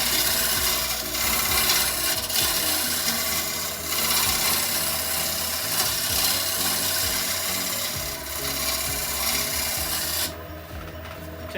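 A chisel cuts a wooden bowl on a lathe, giving a steady close rasping scrape with faint rhythmic catches. The scraping runs continuously and eases off just before the end.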